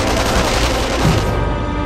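Dense gunfire from several directions in Sniper Elite V2, a loud, continuous blur of overlapping shots with no talk.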